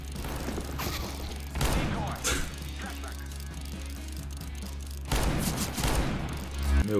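Rapid revolver fire in a video game: two quick bursts of sharp shots, one near the start and another toward the end, over a constant low hum of game sound, with someone talking excitedly between them.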